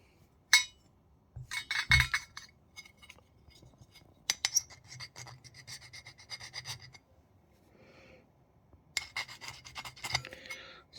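Cold-worked 6% tin bronze scraped across a cast fahlore copper blade gives close, dry metallic rasps and clinks in short bursts separated by quiet pauses, with no talk.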